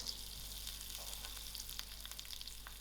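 Whole garlic cloves and curry leaves fry in oil with a faint, steady crackling sizzle, sprinkled with small pops and spits throughout, heard quietly with no voices.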